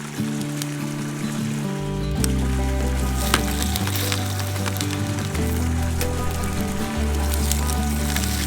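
Butter crackles and sizzles on hot grill grates at a campsite, a dense, continuous popping spatter heard close up under a low background hum.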